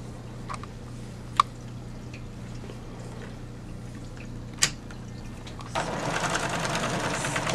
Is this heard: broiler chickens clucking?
no